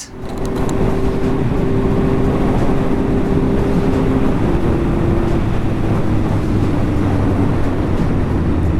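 A Yamaha MT-09 motorcycle fitted with a Healtech iQSE quickshifter rides on the road, its engine a steady loud drone with a rising tone shifting partway through, heavy wind noise running throughout.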